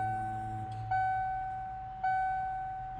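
A sustained electronic beep tone inside a 1993 Ford Lightning pickup that holds steady, briefly drops out twice and resumes, close and clear.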